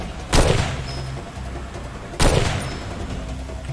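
Gunfire in the shooter game Far Cry 2: two sharp, booming shots about two seconds apart, each with a short decaying tail over a steady ambient background, with no talking.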